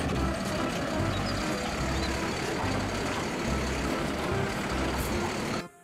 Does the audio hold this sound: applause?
no